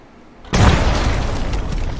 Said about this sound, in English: Don't mind the explosion in the beginning.